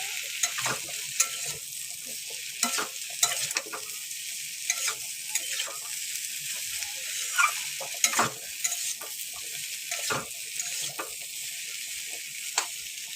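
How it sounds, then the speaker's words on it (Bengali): Fried cauliflower and beans are stirred with spices in a pan: a continuous soft sizzle broken by repeated scraping strokes of the spoon at an irregular rhythm, close up and with no voices. "ফুলকপি আর বিনস যেগুলো ভাজা ছিল সব দিয়ে দিলাম, দিয়ে ভালো করে নাড়বো যেন মশলাটা সব সবজির গায়ে লেগে যায়"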